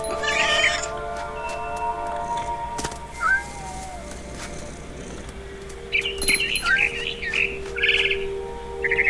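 A cat meows in the game What Remains of Edith Finch, with several short high calls and chirps at the start and again later, heard over a steady ambient game backdrop with a faint whistle-like tone.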